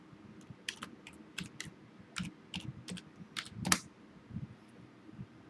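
Keys on a computer keyboard are tapped in short irregular bursts as a password is entered on a Windows 8 Enterprise machine, close and fairly quiet over a low hum, with one louder clack near the end.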